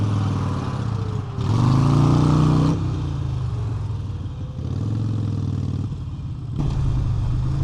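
Harley-Davidson Iron 883 motorcycle engine idling near 1000 rpm with a steady loud rumble that swells in brief revs, close up, with no talk.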